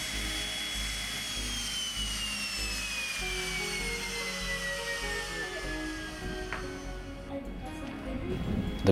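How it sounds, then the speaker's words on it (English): A private jet arriving at an airport to collect a shipment of koi, its turbine whine gliding steadily downward while a broad engine roar builds, heard from a distance with no talking. "A private jet arrives."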